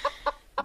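A chicken clucks close by, three short, clear clucks in an uneven rhythm with no other voices.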